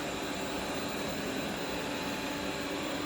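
A Coredy R650 robot vacuum runs with its motor sped up, giving a steady, close, high whooshing whir that holds an even level without pauses.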